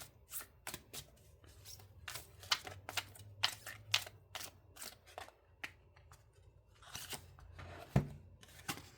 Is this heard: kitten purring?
no